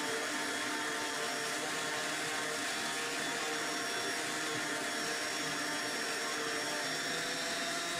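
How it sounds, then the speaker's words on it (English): A power sander evens out the wooden frame joints of a Japanese shoji screen, a steady, close whirring hiss that holds constant and unbroken throughout, with no talking. "use the sander to even out those differences"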